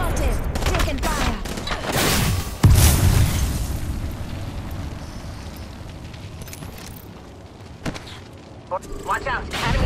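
Heavy gunfire and explosions in a Call of Duty style video game battle, with bursts and booms rolling through the fight, one big blast near the middle, and voices talking over the din.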